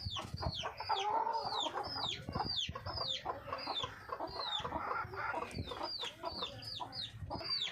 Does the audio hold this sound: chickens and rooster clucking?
yes